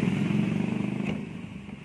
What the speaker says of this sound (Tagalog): Testing muna natin yung motor kung gumagana.